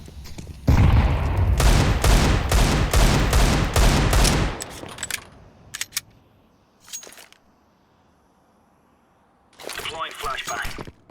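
Video-game combat on the Vertigo map: a dense burst of rapid gunfire and blasts runs for about four seconds, followed by scattered single shots, then another short volley near the end, loud and close.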